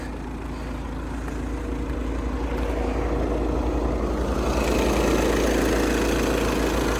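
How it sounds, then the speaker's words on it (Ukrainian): A Volkswagen Passat B7 Alltrack 2.0 TDI diesel engine idling steadily up close, a continuous low rumble with a constant vibrating hum and no voices. "двигун працює чітко"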